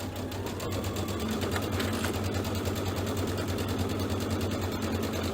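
A sewing machine runs steadily through several layers of fabric on a Halloween bench buddy project, producing a continuous, close, even whir of fast stitching with a low motor hum throughout and no pauses.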